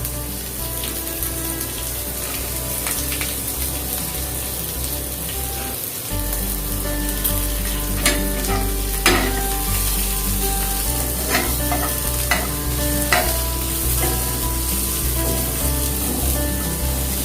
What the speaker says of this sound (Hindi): ये प्याज को हम फ्राई करेंगे